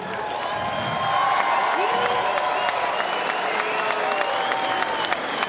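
A large home crowd at a New Zealand boxing event applauds and cheers steadily, a dense wash of clapping with whoops rising on top, loud and sustained throughout.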